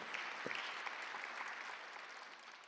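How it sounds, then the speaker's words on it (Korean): A church congregation at a Korean Sunday worship service claps together in a brief, fairly distant burst of dense applause that tapers off quickly. "믿는 사람만 박수 한번 해주세요"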